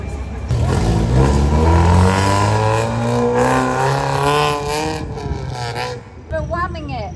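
A heavily lowered car revs its engine as it drives past on a city street near a pedestrian crossing in Tokyo, a rising, close growl lasting several seconds with voices talking over it.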